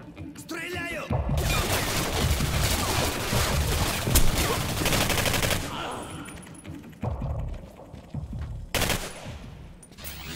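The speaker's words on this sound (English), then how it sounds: "Стреляю!" Gunfire in the video game Singularity: long, dense bursts of rapid automatic shots with crashing impacts, loud and sustained, pausing briefly and then resuming in shorter volleys.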